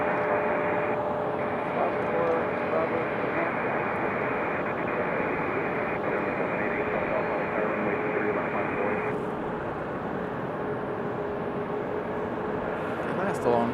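An Embraer E-175 airliner sits at Raleigh-Durham International Airport awaiting pushback, giving off a steady, loud broadband engine roar that holds unbroken throughout, with faint voices underneath.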